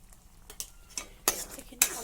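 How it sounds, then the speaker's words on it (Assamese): A few light scrapes and clinks of a utensil stirring fish egg curry with red chili, cumin powder and salt in a pan, brief irregular strokes at close range. "এইখিনি ভালদৰে লৰাই দিম।"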